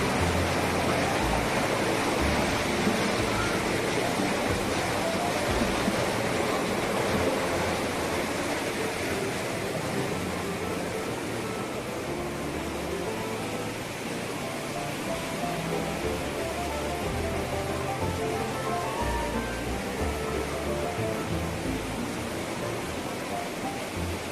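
An underground river gushes from rock crevices at Baron Beach with a loud, continuous rushing roar of water that holds steady from start to finish with no voices.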